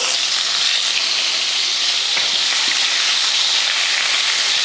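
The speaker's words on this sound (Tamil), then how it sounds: "கொஞ்சம் எண்ணெயை ஊற்றிட்டு ரெண்டு தக்காளியும் போட்டு வறுத்துக்கலாம்" Tomatoes frying in oil in a pan for a bitter gourd kuzhambu, a steady, loud, dense sizzle and crackle filling the whole stretch with no voices over it.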